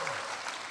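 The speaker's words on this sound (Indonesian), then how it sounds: "Tepuk tangan dulu untuk Tuhan kita yang luar biasa" A church congregation claps during a sermon, a brief, steady burst of many hands at a distance with no break.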